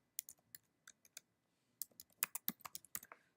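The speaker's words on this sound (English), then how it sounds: "So you need to type exactly the same." Computer keyboard typing as a schema name is entered, a run of crisp, fairly close key clicks in uneven bursts with a brief pause in the middle, quicker and denser toward the end, no voices.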